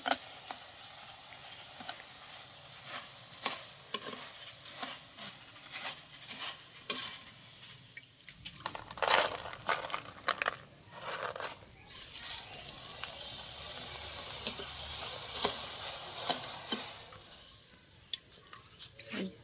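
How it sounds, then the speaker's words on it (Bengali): Flattened rice (chira) is fried a little at a time in hot oil in a pan, crackling sizzle bursts with stirring scrapes, rising into a denser stretch midway, while a voice talks over it. "তেলটা গরম থাকলে দেওয়ার সাথে সাথে কি সুন্দর চিড়িগুলো ফুলে উঠছে"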